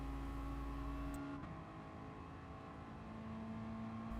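Mazda Roadster touring race car in Gran Turismo Sport at Suzuka Circuit, engine held at full throttle through a turn, a steady droning tone shifting pitch once early on, with no talk.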